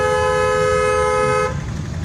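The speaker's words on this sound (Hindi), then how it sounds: "लंबा हॉर्न देखो, वो इधर ही दबा रहे" A long, steady car horn blares in city traffic, one sustained tonal honk for about a second and a half before cutting off, leaving road noise behind.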